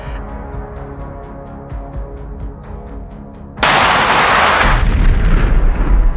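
Rapid rhythmic Bradley cannon fire thumps along, then a massive blast erupts and a roaring explosion sustains loudly to the end.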